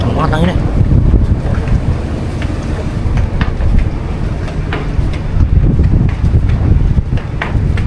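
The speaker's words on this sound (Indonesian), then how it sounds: "Wih, di kenceng banget anginnya." Strong wind roaring across the deck of a logistics ship crossing the Bali Strait, a constant heavy rumble of gusts buffeting the microphone with faint engine and water noise beneath.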